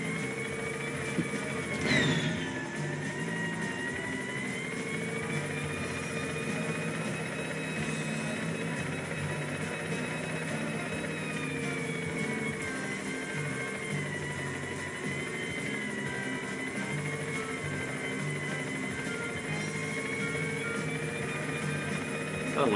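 Helicopter rotor and engine drone from the Yooka-Laylee video game, a steady whirring hum held at even loudness throughout, with a brief sharper swish near the start and game music or ambience layered beneath.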